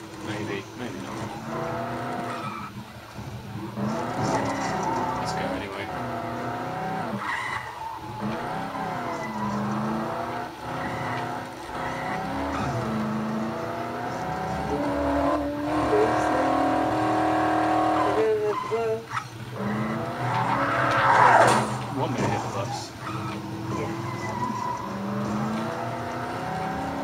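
A car in Dead Island drives with a droning, shifting engine tone and occasional tire squeals and skids, continuous throughout with people talking over it.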